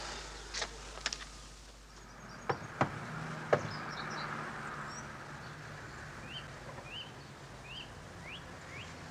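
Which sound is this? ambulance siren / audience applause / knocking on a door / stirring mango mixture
knocking on a door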